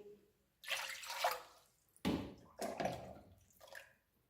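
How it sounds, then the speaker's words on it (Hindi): Water poured from a cup into a cooking pot to make Kashmiri pink tea, in three separate splashing pours with short quiet gaps between them, close and clear with no talking. "सबसे पहले हम एक पतीली लेंगे, उसके अंदर हम डालेंगे ये पानी।"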